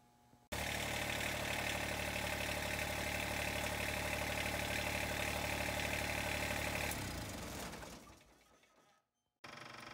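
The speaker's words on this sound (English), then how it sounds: "we need to turn it on briefly and let the oil cycle" A Kubota 1211 zero-turn lawn mower engine idles steadily and fairly loudly, starting abruptly after a half-second and running evenly before winding down and cutting out near the end.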